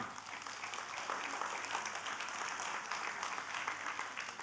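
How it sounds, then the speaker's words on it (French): An audience at a live cooking demonstration gives a chef steady applause, a continuous wash of clapping from many hands, moderately distant and fairly quiet. "On peut applaudir Cyril."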